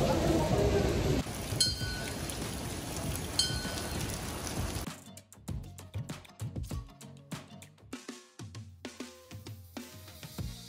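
Monsoon rain falls on the trek to Harishchandragad, a dense hiss of rain for the first seconds giving way to scattered drips and patters as the downpour eases.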